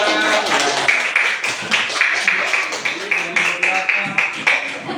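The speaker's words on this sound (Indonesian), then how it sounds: "Ya, kasih tepuk tangan." A classroom audience claps after a group presentation, a steady run of loud, close hand claps settling into a rhythmic beat, with some talking underneath.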